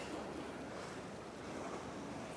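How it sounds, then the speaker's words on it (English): Water washes continuously along the waterways of Venice, a steady broadband rush of waves mixed with wind. No distinct motorboat engine stands out. "The music of the waves, the music of the motorboats, the music that is the sound and light and color and fabric of Venice."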